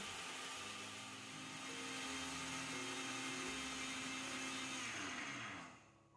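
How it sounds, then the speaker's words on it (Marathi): A mixer grinder whirs loudly and steadily for several seconds, grinding barnyard millet into fine flour, then winds down abruptly near the end. No voices. "ती देखील मी मिक्सरला छान अशी फिरवून घेते आणि एकदम बारीक पावडर स्वरूपात तयार करून घेते"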